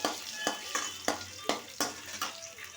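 Potatoes fry in a pan while a spatula scrapes and stirs them in regular strokes, each stroke a sharp scrape over a soft, steady sizzle.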